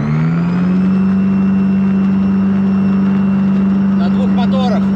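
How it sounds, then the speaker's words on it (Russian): Loud, steady drone of a twin-engine push-pull propeller plane taking off, climbing in pitch at the start, then holding a constant roar throughout. "Взлет пушпулом."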